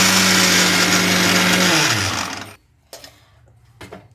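A kitchen mixer grinder whirs loudly with a high motor whine, then winds down and stops, leaving a couple of faint clatters.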